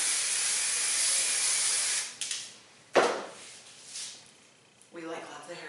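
A long continuous hiss of spray for about two seconds, then short bursts and quieter handling sounds, with a voice briefly at the end.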